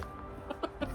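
Backyard chickens cluck in three short, close bursts over a quiet background, each a brief throaty note spaced a fraction of a second apart.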